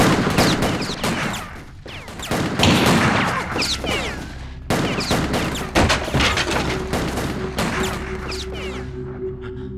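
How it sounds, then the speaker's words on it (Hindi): Rapid bursts of gunfire and heavy thuds in a dubbed action movie shootout, loud and close, with dense repeated shots and impacts over several seconds, then a sustained tone as the firing thins out. "शूट हिम, गोली मार"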